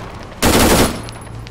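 A short, loud burst of machine-gun fire from an armored vehicle in the ArmA 3 video game, a dense rattling volley lasting about half a second before fading into background noise.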